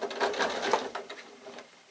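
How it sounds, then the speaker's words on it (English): Sewing machine stitching around a seam on a baby bag's fabric lining, a close steady whirring run of stitches that holds for about two seconds, then slows and eases off at the end. "start sewing again"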